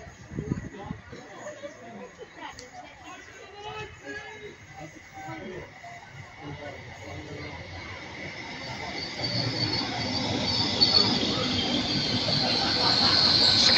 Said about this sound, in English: Comes 800-316 on the 911 service to London Paddington